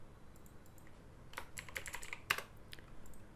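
Keys clack on a computer keyboard in a short burst of quick, uneven taps, close and moderately quiet, with no voice over it.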